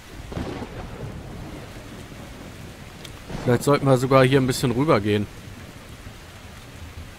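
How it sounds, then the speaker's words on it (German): A thunderstorm with rain in the video game Metro Exodus keeps a steady rumble and rain wash going throughout, while someone speaks German in the middle, over the storm. "ist das ein Sturm, ey."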